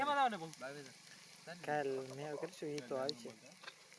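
Onion fries with cumin in a pan, a low sizzle running beneath a voice talking close by.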